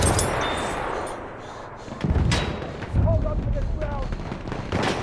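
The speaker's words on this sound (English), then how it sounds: "Enemy machine gun over there." Enemy gunfire in the Battlefield 1 video game, with rapid cracks and heavy thumps in bursts across a busy, noisy battlefield mix, some near and loud, others more distant.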